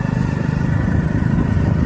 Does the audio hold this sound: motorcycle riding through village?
yes